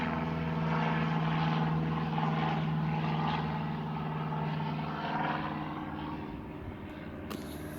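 A propeller airplane drones loudly overhead, a steady engine hum with a low tonal buzz that slowly eases as it passes.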